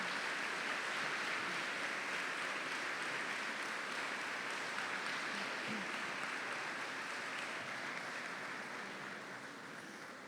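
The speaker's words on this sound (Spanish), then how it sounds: "Les pido, hermanos, que recibamos con un aplauso a nuestro hermano Marino Restrepo" A church congregation gives a sustained, dense round of applause to welcome a speaker, steady and fairly distant, tapering slightly toward the end.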